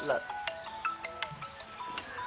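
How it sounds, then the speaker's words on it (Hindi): A mobile phone rings with a repeating electronic tone pattern, moderately quiet, while people talk over it in a comedy sketch set at a wedding. "देखो या फोन बाजे लाग। हाँ घन घन घन घन करे लाग"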